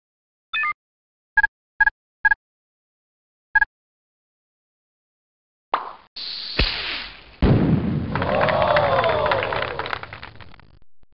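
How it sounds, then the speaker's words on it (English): Fraction fireworks in the Mighty Math Number Heroes video game: a few short electronic blips, then a whooshing launch and a crackling, sparkling burst that fades out. "Let's launch a fraction firework that's one-fourth orange."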